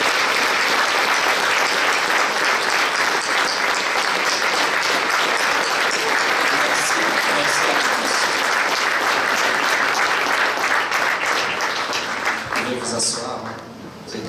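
Loud, sustained applause from a large audience of parents and teachers for exhibitors at a regional science fair finale in Quebec, dense clapping throughout that thins slightly near the end, with a few voices mixed in.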